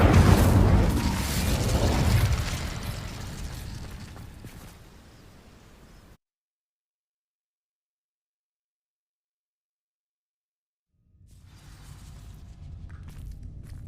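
Incendio fire spell igniting dry vines in Hogwarts Legacy: a loud whooshing burst of flame that fades over several seconds into crackling, then total silence before a low rumble returns.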